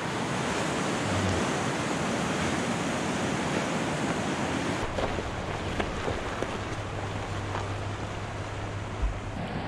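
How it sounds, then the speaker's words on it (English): Small stream of water still trickling down a gorge after a flash flood, a continuous broadband rush of flowing water with faint low hum and occasional small knocks, no speech. "The last little bit of the stream still flowing."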